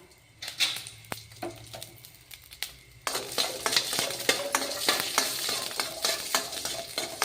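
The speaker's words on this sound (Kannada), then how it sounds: "ಇವಾಗ ಇವು ಫ್ರೈ ಮಾಡ್ಕೋಣ." Chutney ingredients fry in oil in a pan, with scraping and stirring clatter over a steady sizzle that gets louder and denser partway through, close up and with no talk.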